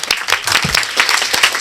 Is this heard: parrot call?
no